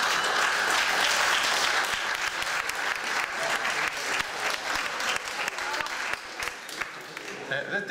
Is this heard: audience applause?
yes